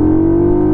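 An Amigo Rocky 125 mini motorcycle engine revs hard and holds a steady high, loud buzzing drone up close for a moment, with no talk.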